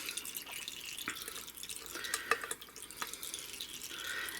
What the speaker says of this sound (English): I'm just going to try to let this drain out as much as possible manually